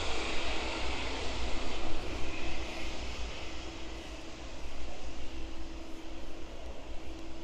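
A DHL Boeing 757 touches down at East Midlands Airport, its broad jet roar steady and fairly loud throughout, with a low rumble and a faint tonal whine running under it.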